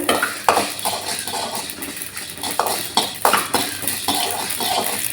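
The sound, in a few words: mustard seeds spluttering in hot oil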